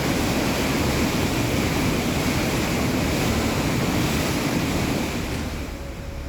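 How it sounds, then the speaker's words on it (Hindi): The Narmada river in flood in Mandla district after days of heavy rain, a steady, loud roar of rushing water with wind buffeting the microphone, easing slightly toward the end. "मंडला जिले में नर्मदा नदी उफान पर बह रही है।"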